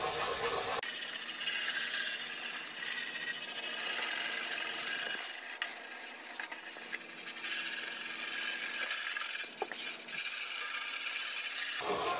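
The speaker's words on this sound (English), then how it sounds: "So I'm just kind of going over the entire thing with a wire brush, and I've got a Scotch-Brite pad." A wire brush scrubs a metal control panel with steady, rough rubbing strokes, close and fairly quiet, continuing unbroken with a few brief pauses and no talk.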